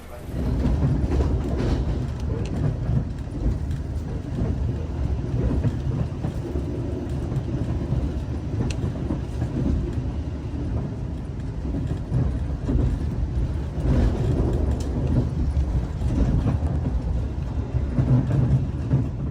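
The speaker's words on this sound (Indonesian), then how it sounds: "perjalanan kereta api Lodaya yang saya naiki telah tiba di stasiun Gombong" Steady low rumble of the Lodaya passenger train running on rails, heard from inside the carriage as a continuous, fairly loud drone with faint rattles and no talk.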